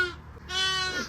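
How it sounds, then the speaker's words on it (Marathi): A sheep bleats close by, two wavering calls in quick succession, the second longer and louder, over faint outdoor background noise in a flock with small lambs. "हे बघा इकडे मेंढे आता बारीक बारीक कोकरं सगळे"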